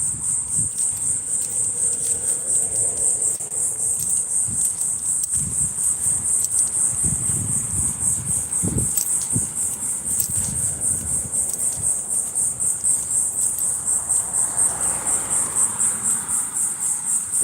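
A constant high-pitched cricket buzz drones without pause throughout, with faint rustling and low background noise underneath.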